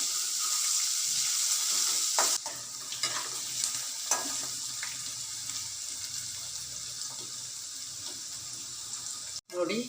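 Bitter gourd roasting slowly in a pan over a low flame, giving a steady close hiss of frying with occasional stirring scrapes throughout, no voices.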